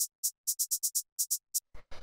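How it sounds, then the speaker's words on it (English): A short shaker sample from a tech house track ticks alone in a loose rhythm of soft, bright, airy shakes, about a dozen hits, ending with two grainier, fuller shakes. "So this is just this little shaker sample here."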